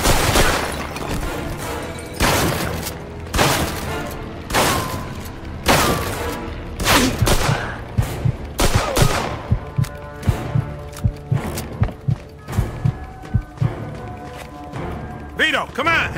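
Repeated gunfire in Mafia II: a rapid string of loud, close shots and booming impacts, densely packed at first and then thinning into scattered bursts, with voices and other game sounds between them.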